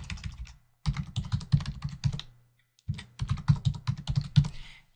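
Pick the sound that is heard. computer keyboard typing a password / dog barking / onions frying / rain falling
computer keyboard typing a password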